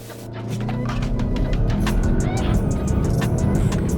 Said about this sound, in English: So we are going to launch the Tiguan.